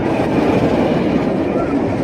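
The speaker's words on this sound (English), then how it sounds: "Got another train going down on Wonder Woman." Steel roller coaster train rolling down the Wonder Woman ride at an amusement park, a continuous loud rumbling roar with faint rail clatter.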